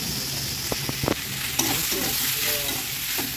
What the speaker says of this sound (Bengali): লবণটা আমি সিমের বিচিগুলি এর সাথে মিশিয়ে নিচ্ছি।